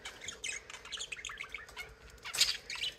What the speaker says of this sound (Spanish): Pero miren, aquí tengo mis pajaritos.